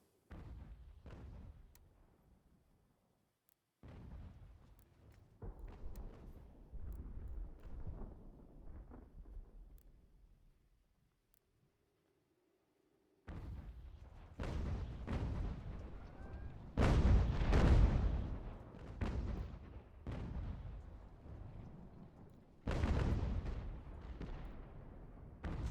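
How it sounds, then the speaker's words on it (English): Cannon artillery fire in a video game battle set in the American Revolution, with heavy booming blasts clustered in the second half, loud and rumbling, after quieter distant battle noise and a brief lull. "Unfortunately, my cannons are hitting myself."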